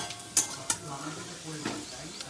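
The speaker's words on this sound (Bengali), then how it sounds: "আলুগুলো ভালো করে ভেজে নেব" Potatoes and grated ginger fry in a pan with a soft sizzle as they are stirred, with a few sharp scrape or clink accents from the utensil; short, close and free of speech.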